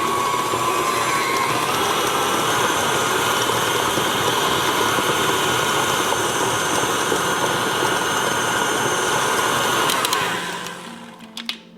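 Electric mixer beating chunks of butter, whirring loudly and steadily at high speed for about ten seconds, then winding down and switching off.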